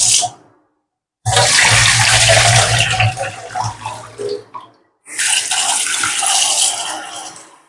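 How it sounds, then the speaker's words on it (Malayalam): Cold water pours in two long bursts into a pot while making grape payasam, a loud splashing rush that stops briefly near the middle before resuming, with no talk. "കുറച്ച് പച്ചവെള്ളം ഒഴിക്കാം"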